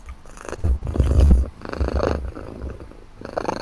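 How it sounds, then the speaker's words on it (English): A cat purring close and loud, with rumbling swells that rise and fall in uneven waves over a few seconds, heard alone without talk. "By the way, is there a cat somewhere?"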